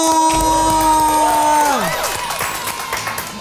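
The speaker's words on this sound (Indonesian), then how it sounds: "Kita kasih tepuk tangan sekali lagi buat Arafa" A crowd claps and cheers steadily, with a sustained tone sliding downward over the noise before the applause continues.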